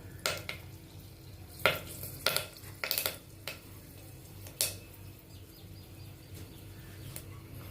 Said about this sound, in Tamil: அது நல்லா பொட்டணும் கடுகு சவுண்டு கேட்குதா